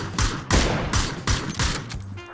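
Rapid bursts of gunfire in the battle royale video game PUBG, several loud volleys in quick succession with short gaps, close and punchy, with no talk over them.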